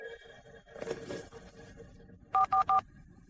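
A telephone dials out with three quick, evenly spaced keypad tones, clear and close, following a brief soft rustle and handling noise.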